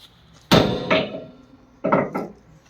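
Two pairs of sharp, loud impacts, like a hammer striking wood, with a short pause between each pair and quiet between the blows.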